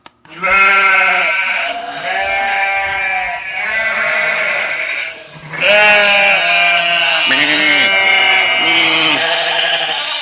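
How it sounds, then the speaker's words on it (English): A flock of sheep bleating loudly and continuously, many overlapping wavering cries close by, with one brief pause midway. "You got to listen to the sheep of Key West."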